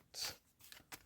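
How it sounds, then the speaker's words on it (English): Tarot cards are shuffled in a brief, faint, close-up riffle of soft papery swishes, one longer sweep followed by two short flicks. "Let's shuffle these up and see what we've got for you this week."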